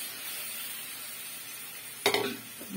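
Boiled peas tipped into a pan of frying spices for ghugni: a low, steady frying hiss suddenly bursts into a loud sizzle and clatter as the peas hit the pan, then settles back down.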